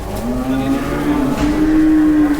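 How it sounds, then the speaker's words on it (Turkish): Cattle at a Turkish livestock market give a single loud, sustained moo close by, holding steady for over two seconds with no talk over it. "Burada da var inekler ama bunları bilmiyor sahibini."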